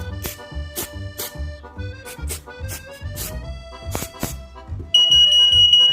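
A 1998 Fire Sentry smoke detector under test gives a run of loud, shrill, evenly spaced electronic beeps. The beeps then give way to one continuous piercing tone.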